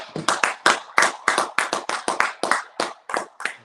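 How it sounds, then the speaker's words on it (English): Rhythmic hand clapping, about a dozen crisp, close claps in a steady beat with no talking. "Clap it up."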